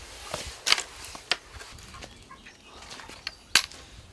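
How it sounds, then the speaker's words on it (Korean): Chickens in a rural yard flap their wings in sharp, irregular bursts, with a few brief clucks between soft rustling, moderately close and without any talk. "닭 구경하러 오시오."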